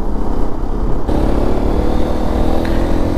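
A Hero Xpulse 210 motorcycle rides on a long trip into Guwahati. Its engine drones steadily, with constant road and wind rush and no break or voice.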